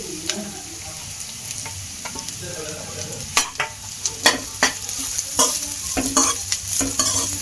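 Carrots and cabbage are stir-fried in a pan for restaurant-style veg fried rice, with a loud, close, continuous sizzle broken by sharp clacks and scrapes of a spatula stirring.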